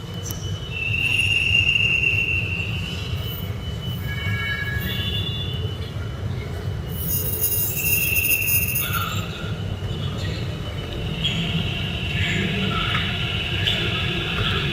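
Hyderabad Metro Red Line train running past in a station, a steady rolling rumble with high metallic wheel squeals rising and fading over it, continuous and fairly close, no voices.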